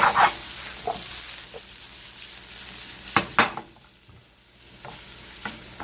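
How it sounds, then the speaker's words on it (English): Salsa cooking down in a pan for Tex-Mex breakfast migas, a soft sizzle under occasional spoon scrapes and pan knocks, with a few louder stirring bursts and quieter stretches between. "I'm going to go ahead and put some of this salsa in here"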